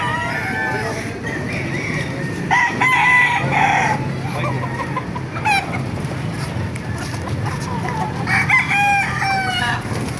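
A rooster crows loudly and close by, several times over about ten seconds, among clucking fowl and busy background noise at a chicken market in Baliuag, Bulacan.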